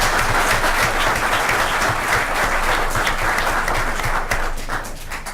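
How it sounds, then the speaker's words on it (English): Sustained applause from a school board meeting audience honoring elementary students and teachers, dense steady clapping from many hands filling the room and tapering slightly at the end. "One last round of applause for all our Wilcox students and teachers."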